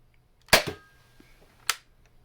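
A Nerf Rival Finisher K26 blaster fires a sharp, loud snapping shot, followed about a second later by a second crisp crack, in an otherwise quiet room.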